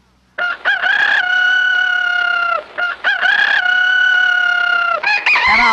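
A cartoon character's voice from an early-1960s cartoon imitates a rooster, giving two long, loud crowing calls with a short break between them, then a third call starting at the end.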